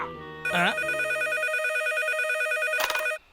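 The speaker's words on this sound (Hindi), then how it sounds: "हेलो, आपने लाखा को फोन किया?" A telephone rings with an electronic warbling tone, loud and near, followed by a brief burst of noise before it stops.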